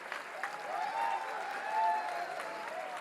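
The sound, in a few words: audience applause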